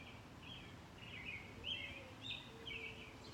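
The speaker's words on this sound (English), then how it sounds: "just listening to the birds" Birds singing outdoors, a series of faint, repeated high chirping phrases at a distance over a soft steady background hush, with no voices.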